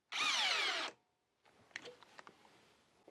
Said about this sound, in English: Here's our Hyper Tough in low speed where we should have some higher torque. We'll be using the Omega screw.